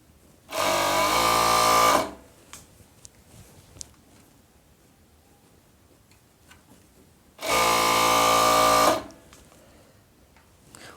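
A sewing machine stitches the side seam of a woman's long-sleeved pajama top from the sleeve cuff upward, running in two bursts of about a second and a half each, separated by quiet handling noises.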